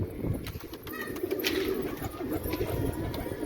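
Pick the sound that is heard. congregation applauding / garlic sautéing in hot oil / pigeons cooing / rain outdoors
pigeons cooing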